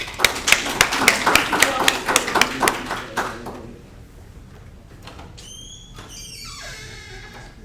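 A small class gives a brief round of applause for a guest, with a handful of distinct, fairly close claps in the opening seconds, then quiet room tone with a few faint squeaky sounds.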